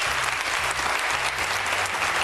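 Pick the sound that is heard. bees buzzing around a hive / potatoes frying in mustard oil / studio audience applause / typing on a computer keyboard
studio audience applause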